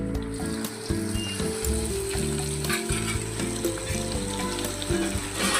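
Bhindi (okra) fries in oil with a loud crackling sizzle right up close. A low mechanical hum and rattling, ratchet-like tones run underneath throughout, and no voices are heard.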